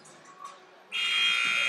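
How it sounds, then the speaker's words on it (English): Basketball game buzzer at halftime in a boys' championship game: a loud, sustained electronic buzz cuts in after a quieter stretch of low crowd murmur and keeps blaring to the end. "There's the buzzer"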